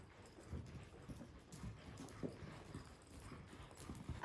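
A horse lopes in circles, its hooves clip-clopping in a steady repeating rhythm at low volume, with faint background noise and no talk.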